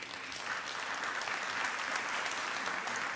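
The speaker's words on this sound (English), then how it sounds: "Go get and give her a big round of applause." Audience applause at a city council meeting, a steady, dense clapping crowd sustained evenly throughout with no speech over it.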